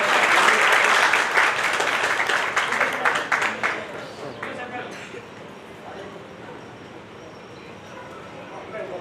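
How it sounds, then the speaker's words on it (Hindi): Loud welcoming applause from a crowd at a community religious assembly, dense clapping that tapers off over about five seconds while voices talk over it. "जोरदार तालियों से स्वागत।"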